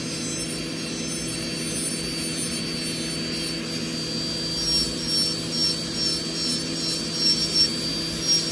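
An electric manicure drill files a fingernail, giving a steady, continuous high motor whine that runs unbroken for the whole stretch with slight swells near the end and no voices.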